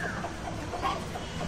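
Chickens cluck on a village farm, a short low burst of fowl sounds rising midway over steady outdoor background noise, with no talking.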